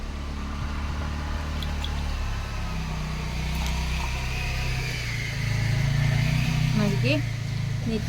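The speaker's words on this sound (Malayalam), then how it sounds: "ഭയങ്കര വണ്ടിയുടെ ശബ്ദം" A loud vehicle passes nearby, its low engine rumble swelling in the second half before easing, heard beneath someone speaking steadily over it.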